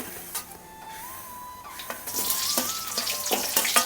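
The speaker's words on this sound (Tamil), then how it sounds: "வெங்காயத்தை மட்டும் வதக்கிட்டுலாம் சிக்கன் வந்து போட்டாச்சு" Onions and chicken frying in a pan, a faint sizzle that swells into a loud crackling hiss partway through, with a thin steady whine underneath.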